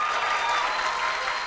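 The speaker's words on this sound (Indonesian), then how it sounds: "Nah, tepuk tangan" Audience applause in a comedy show, a steady, dense patter of many hands clapping together at moderate distance, with no voices over it.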